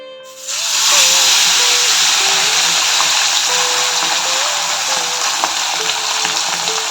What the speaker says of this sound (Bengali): তেল পুরো হিট হয়ে গিয়েছে। এবার এটাকে দিয়ে দিই।